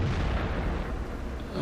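A tank cannon fires in the video game World of Tanks, a heavy, booming blast with a rumbling low tail that fades over a second and a half, loud and close.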